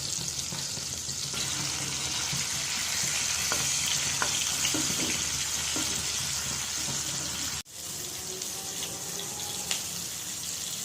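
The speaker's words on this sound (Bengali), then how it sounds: "মাছ হয়ে গেছে ভাজা" Steady oil sizzling and crackling from pangas fish frying in a pan, with occasional scrapes and clinks of a utensil, close and continuous.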